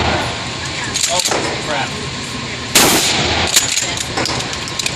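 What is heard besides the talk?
rifle gunshots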